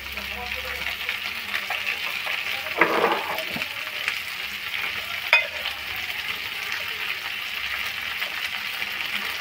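Cashews and raisins fry in hot oil in a pan for khichuri, a steady close sizzle with a couple of brief clattering bursts from stirring partway through.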